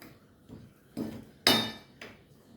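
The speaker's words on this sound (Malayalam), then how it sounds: "ഇത് നല്ലവണ്ണം ഒന്ന് മിക്സ് ചെയ്ത് കൊടുക്കുക" A spoon stirs gooseberry chutney powder in a dish, making a few sharp metallic clinks and scrapes at uneven intervals, the loudest near the middle, in an otherwise quiet kitchen.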